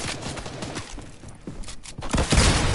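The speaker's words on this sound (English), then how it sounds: "Switch to your rocket launcher." Shooting in a video game when a rocket launcher is fired: rough bursts of explosive blasts and crackling booms, loudest near the end.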